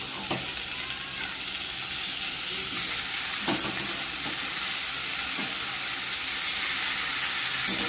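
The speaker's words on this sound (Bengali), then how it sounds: "পেঁয়াজটা, রসুনটা ভালো করে ভাজা হয়ে গেছে। এইবার এর মধ্যে মাছগুলো দিয়ে দেবো।" Fish pieces sizzle in a pan of fried onion and garlic, a continuous close frying hiss with a few brief clinks and scrapes scattered through it, and no one speaks.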